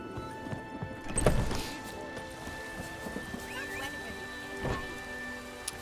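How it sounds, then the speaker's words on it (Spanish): A horse in The Witcher 3 video game clops along with steady hooves and gives a whinny. The sound is moderately close, with a soft patter of rain in the background. "Caballo."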